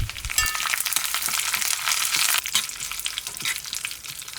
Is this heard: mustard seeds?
yes